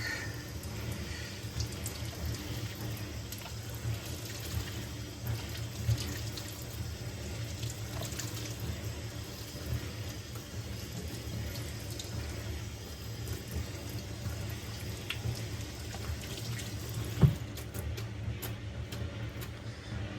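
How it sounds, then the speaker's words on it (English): A kitchen sink tap runs steadily while hands are washed under it after handling raw pork, a continuous moderate rush of water with one brief clunk near the end and no talk. "Washing my hands of this diseased pork."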